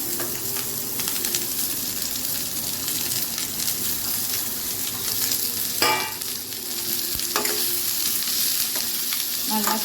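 Chopped carrot and cabbage fry in a pan for a cabbage carrot poriyal, with a loud, steady close sizzle and occasional scraping stirs.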